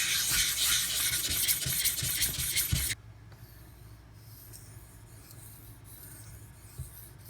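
A knife rubs back and forth across a Pride Abrasives water stone in steady gritty strokes for about three seconds, close and loud, then the scraping stops and only a quiet background remains.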